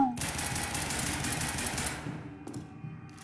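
Sustained rapid gunfire from the Roblox game The Mimic rattles loudly and continuously for about two seconds, then drops to quieter scattered shots and faint game sounds.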